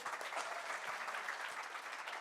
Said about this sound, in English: give him a clap for coming on stage